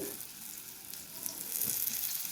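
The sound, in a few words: wood apple chutney frying in oil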